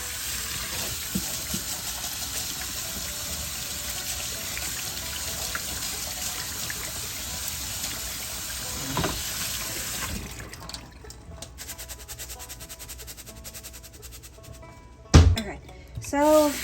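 A cup of rice is rinsed under a running kitchen tap, with steady splashing water for about ten seconds before the flow thins out. A short clatter and a voice follow near the end.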